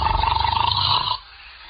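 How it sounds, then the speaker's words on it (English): Snoring in an old-time radio drama, a loud rhythmic rasping drone that pulses steadily for about a second before cutting off abruptly to near silence. "must you start snoring as soon as you close your eyes?"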